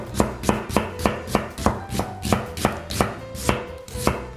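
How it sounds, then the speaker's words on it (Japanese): A knife thinly slicing an onion on a cutting board, about a dozen crisp, evenly spaced chops in a steady rhythm, close and clear with no talking. "今回こちらの玉ねぎは薄切りにしていきます"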